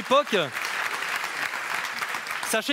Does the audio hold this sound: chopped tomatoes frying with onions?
no